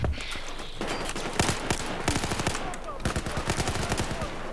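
Automatic weapon fire in the video game Battlefield 4, including an MX4, rattles in several dense bursts of rapid shots with heavy recoil, loud and close, separated by brief pauses.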